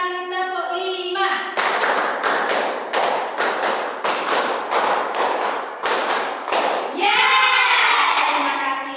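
In a classroom, hands clap together in quick rhythmic bursts, a dozen or so sharp claps in patterned groups of five, with a teacher and children speaking before and after.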